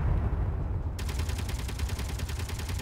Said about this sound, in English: how many Gatling gun turrets would be required to eliminate incoming missiles successfully